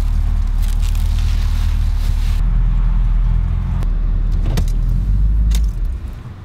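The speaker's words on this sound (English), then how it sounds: "it's an old loud car" An old, loud car nicknamed Bertha idles with a steady rumbling drone, close and continuous, before the engine noise drops away near the end.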